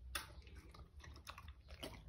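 A dog crunches dry kibble close to the microphone, with irregular bursts of brittle chewing and clicking bites spaced through a couple of seconds, fairly quiet, with no voices.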